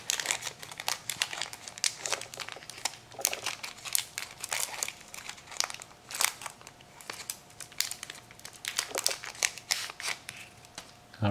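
Crinkling plastic wrapper of a Magic: The Gathering Weatherlight booster pack being torn open and handled, a steady run of close, crisp crackles and rustles across the whole stretch with no talking.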